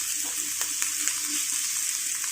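Chicken fries in a pan for adobong sitaw, making a steady bright sizzle with a few soft scrapes and clicks as it is stirred, close and continuous.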